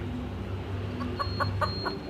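Several short clucks from a chicken, spaced irregularly, over a steady low background hum.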